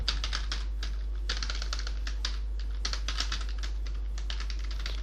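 Computer keyboard typing while building billing software in Excel VBA, quick light clicks in steady bursts over a constant low hum, close to the mic.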